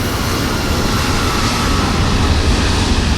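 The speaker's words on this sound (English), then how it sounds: "someone's taking off on 31 right" Airliner taking off from runway 31 right in a flight simulator, a continuous loud broadband engine roar and rumble that holds steady throughout with no talking.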